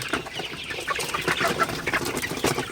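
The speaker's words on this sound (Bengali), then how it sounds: "আপনারা দেখতে পাচ্ছেন আমার সোনালি মুরগিগুলা আলহামদুলিল্লাহ খুবই ভালো আছে এবং সুস্থ আছে" Sonali chickens on a poultry farm cluck and chatter in a busy, overlapping flock, with repeated short calls close to the microphone and no speech.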